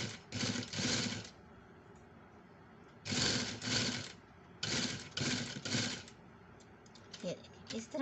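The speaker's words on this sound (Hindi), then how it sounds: "अब मैं इस पर डायरेक्ट सिलाई लगाने लगी हूँ" Sewing machine stitching straight onto fabric in bursts of rapid mechanical chatter, three runs of fast needle clatter separated by short pauses, close and clear in a quiet room.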